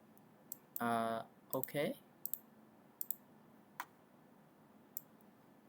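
Mouse clicks at a computer during configuration of a GE PLC analog input module: a few sharp, close, quiet clicks spaced over several seconds, with a brief spoken word early on.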